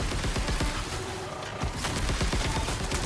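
Enemy gunfire in the video game Borderlands 4 during a hostile combat encounter: dense, continuous bursts of rapid shots crackle throughout, loud and close, with no clear pauses between volleys.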